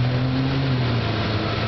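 A 1957 Chevy two-door hardtop with a late-model small block Chevy V8 and newer Holley carburetor, giving a steady, close, low engine drone for a couple of seconds without speech.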